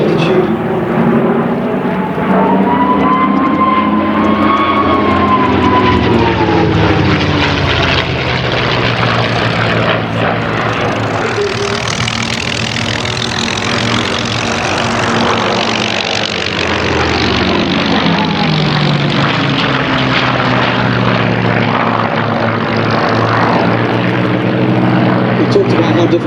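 A Red Bull Flying Bulls propeller aircraft with a supercharged piston engine roars through a flying display, its loud drone swelling and fading with shifting pitch as it passes, while a commentator speaks over it.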